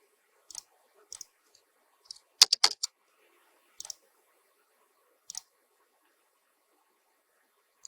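Sharp computer mouse clicks and keyboard key presses sound in scattered short bursts, with a denser cluster of taps midway, close and crisp over a near-silent background with no talk.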